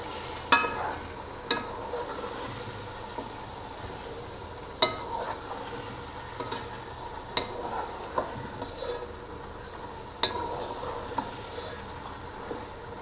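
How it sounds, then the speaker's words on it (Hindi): Green chickpeas roast in spice masala for pulao, a soft low sizzle broken by sharp spoon scrapes and taps against the pan every few seconds, no talking. "इसके भी हम मसाले में अच्छी तरह से भुनाई कर लेंगे।"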